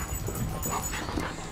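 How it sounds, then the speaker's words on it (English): Dogs scuffling and fighting up close, with whimpers and yips breaking through a steady, busy stretch of rough growls and movement noise. "Here comes the dogs."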